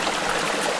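The Bhadra river rushes steadily along a Kudremukha trekking route, a loud, close, continuous broadband wash of flowing water with no voices.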